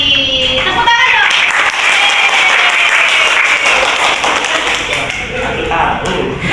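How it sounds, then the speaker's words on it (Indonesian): Applause from a classroom audience during a group presentation, clapping mixed with a bright ringing tone and chatter, fairly loud and continuous. "Tepuk tangan dong."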